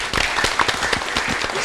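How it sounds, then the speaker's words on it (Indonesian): Lively audience applause at an evening community show in Banjarnegara, dense steady clapping from a crowd, fairly close and continuous throughout. "Kita beri tepuk tangan dulu yang meriah."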